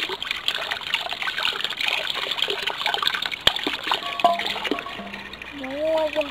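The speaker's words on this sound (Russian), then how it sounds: "Теперь мы моем хорошенько сливы." Plums being washed under running water for pickling, a continuous splashing trickle from the tap with a few knocks and a brief tonal squeak near the end.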